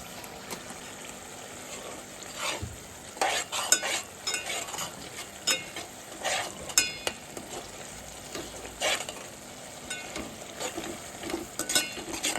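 Ginger paste frying in oil in a pan for a fish curry, a soft continuous sizzle broken by irregular scraping and stirring strokes, close and fairly quiet, with no talking.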